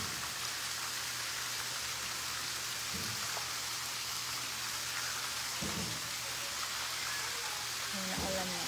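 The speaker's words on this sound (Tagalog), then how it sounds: "Mahina ulan na. Kita mo." Soft, steady rain patters continuously in the background in Angono, Philippines, with a few faint scattered bumps and knocks over the hiss.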